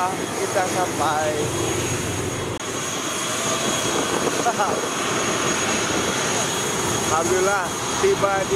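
A passenger airplane's engines roar steadily through the cabin as it descends to land at Natuna, with a cabin announcement spoken over the constant drone.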